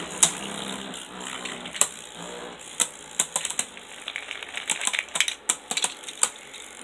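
Beyblade spinning tops clash in a battle stadium after launch, giving sharp irregular metallic clicks and collisions over a steady high whir, with bursts of impacts growing denser toward the end.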